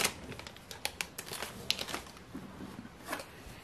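Crinkly rustling of a small plastic bag holding parts for a Velleman electronic clap-switch kit, with several sharp crackles and crumples close up, fairly quiet, and no talking.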